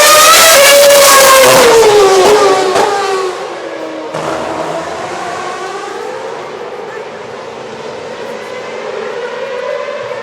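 Formula 1 cars running on the street circuit at the 2011 Singapore Grand Prix, loud high-pitched engine whine sweeping down in pitch as a car passes close, followed by further engine drone with changing pitch.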